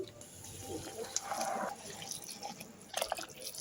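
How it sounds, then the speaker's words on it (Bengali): Hot water poured into fried rice in a pot for biryani gives a faint, soft watery pour with light splashes and drips, low in level. "এই তো দিয়ে দিলাম পানি"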